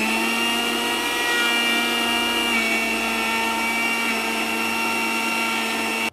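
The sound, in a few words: electric grinder grinding spices into powder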